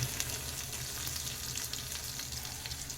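Coconut pieces fry in hot oil with lentils for a coriander chutney, giving a dense, continuous crackling sizzle that stays loud and even throughout.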